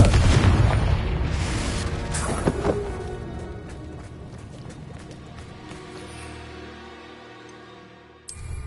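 A Confringo blasting spell explodes in Hogwarts Legacy, a loud booming burst at the start followed by a rolling, crackling decay and scattered smaller pops, with another sharp hit at the very end.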